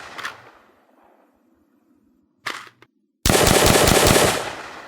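Full-auto weapon in an Unreal Engine Nazi Zombies game, a couple of single mechanical clicks and shots, then a loud sustained burst of rapid automatic fire, close and alone.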